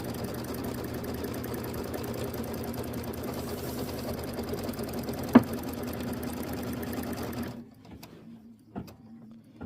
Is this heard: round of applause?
no